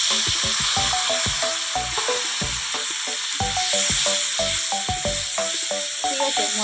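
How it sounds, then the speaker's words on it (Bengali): Mustard paste, cumin and garlic sizzle and fry in a wok with tomato and chilli, a steady close hiss broken by frequent clinks and scrapes of a spoon stirring. "এবারে মশলাটা দিয়ে দেবো, সরষে বাটা, জিরে আর রসুন।"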